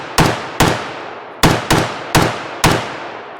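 Five sharp rifle shots from a G36-type rifle fired on the S setting, evenly spaced single reports, each with a short echoing tail, loud and close.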